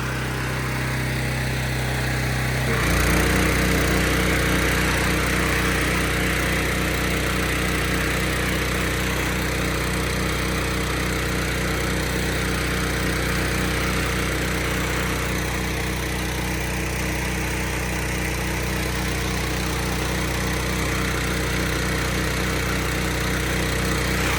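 A small pump engine on a brush firefighting skid shifts pitch after a few seconds, then runs loud and steady close by, a continuous droning hum for the rest.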